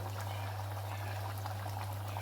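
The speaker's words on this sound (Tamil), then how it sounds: "பாருங்கள் நல்லா கொதிக்க ஆரம்பிச்சிருச்சு" Gentle bubbling of a chickpea tamarind curry (kondakadalai puli kuzhambu) simmering in a pot on the stove, steady and close, over a constant low hum.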